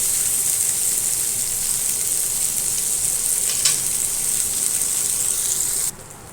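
Tol fish sizzles steadily as it fries in a pan, a loud, continuous hiss of hot oil with a faint crackle, with no talking, before the sizzle drops away near the end.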